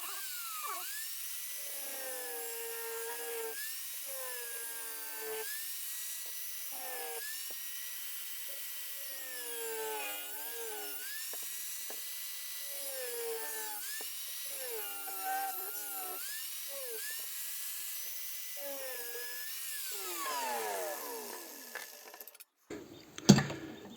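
A handheld rotary tool whines at high pitch as it trims excess wood from a piece still mounted on a handle, its tone rising and falling under load through a long continuous cut, close and steady, ending in a few clunks.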